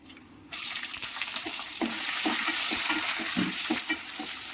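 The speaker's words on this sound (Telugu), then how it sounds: "పచ్చిమిర్చి కూడా కొంచెం వేగాలండి, కొంచెం ఆయిల్ అలా వేస్తే సరిపోతుంది" Green chillies frying in a little oil in a pan for raw mango pulihora, a steady close sizzle with rhythmic stirring clicks from a spoon against the pan and no talking.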